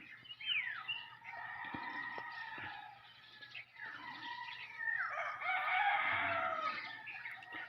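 Chickens cluck and crow nearby, with chirping birds mixed in and a faint low hum underneath.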